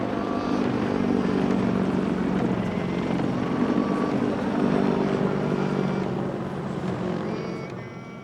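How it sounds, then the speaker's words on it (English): Large American military helicopters circle overhead in Okinawa, their rotors a continuous heavy thudding roar that holds steady and then fades slightly as they move off. "giant American helicopters circled above us, intimidating as always."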